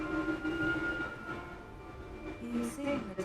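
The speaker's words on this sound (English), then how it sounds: "Going on a train ride." A train ride in the video game Wuthering Waves, with a steady rumbling carriage hum and a few tonal whines, plus faint distant voices underneath.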